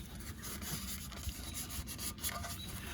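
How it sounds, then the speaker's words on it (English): A piece of towel is rubbed by hand over a soft-metal fitting area, giving a quiet, close scratchy rubbing with repeated short wiping strokes and no talking. "take a piece of towel, wipe this area"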